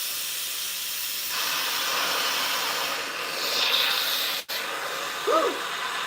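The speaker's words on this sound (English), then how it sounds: "release the steam so it gets done faster" An Instant Pot pressure cooker covered with a towel vents steam in a steady, loud broadband hiss that runs throughout, briefly swelling, with a short clunk near the end.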